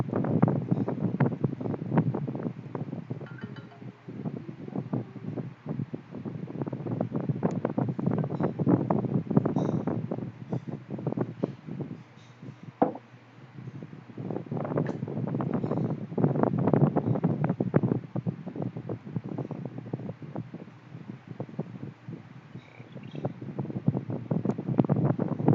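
An electric fan blows air right beside a microphone during an online call, producing a continuous loud rumbling wind buffet that swells and dips throughout.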